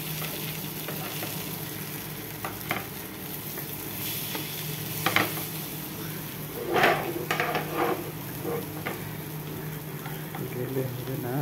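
Bengali fish fritters (bora) frying in a pan give off a steady, close sizzle, with occasional stirring scrapes and utensil clinks and a voice speaking softly underneath.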